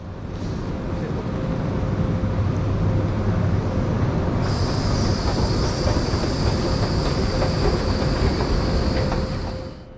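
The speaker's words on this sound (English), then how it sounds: "looks like our train is already here" A loud, continuous rumble of a Railjet train on rails, with a high metallic whine rising partway through, as though the train is rolling into the station platform.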